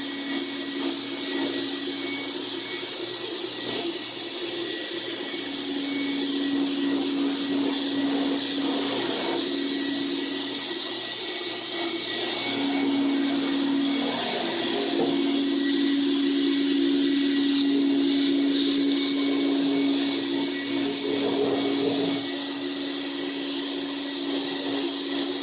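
An Apollo HVLP sprayer lays down a distressed finish at about 5 psi, giving a steady airy hiss with a constant motor whine beneath it. Repeated short bursts flare up as the trigger is pulled and released.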